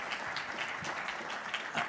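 Audience applause for the Consul General of Israel as he stands during a community event, a steady, moderately loud clatter of many hands clapping that fills the whole stretch without pause.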